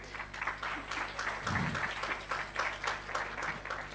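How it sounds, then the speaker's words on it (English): Audience applause for six graduating teams at an annual demo day, a steady mid-level patter of clapping across the whole moment, with a brief low thump partway through. "Let's give one final round of applause to the 6 teams graduating."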